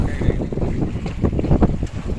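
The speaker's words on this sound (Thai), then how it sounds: "ลม เริ่ม จะมีความรุนแรงขึ้นครับ" Strong wind at sea on the Andaman coast near Krabi, buffeting the microphone in loud, rumbling gusts with splashy surges underneath, continuous throughout with no talking.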